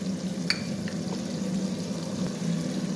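Dhaba-style chana dal palak tadka fries steadily as salt and chili spices go in, with a constant close sizzle and a few brief clinks and stirring scrapes.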